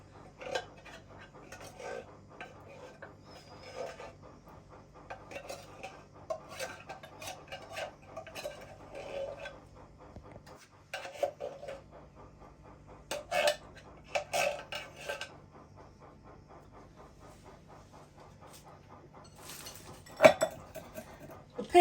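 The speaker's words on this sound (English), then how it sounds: "Make sure you get all of the condensed milk. A lot of it stays in the tin if you don't scrape it out." A metal spoon scraping and clinking inside a tin of condensed milk, with scattered irregular scrapes and taps, fairly quiet and close, with a few sharper clinks near the end.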